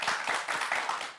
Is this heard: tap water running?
no